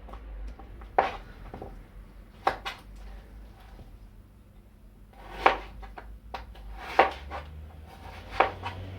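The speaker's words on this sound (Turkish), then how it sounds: "Önce kabakları doğradıktan sonra kabuklarını bu şekilde soyuyoruz" Irregular, sharp knife cuts and scraping on a board as skin is peeled off cut pumpkin pieces, with a few louder knocks spaced several seconds apart in a quiet kitchen.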